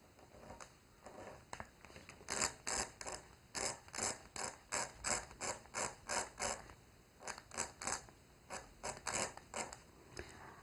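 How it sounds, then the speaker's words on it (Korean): Cutter knife scraping along a marked glue line on leather for a crossbody mini bag, a series of close, rhythmic rasping strokes in bursts, with no talking. "커터칼을 이용해서 긁어줍니다"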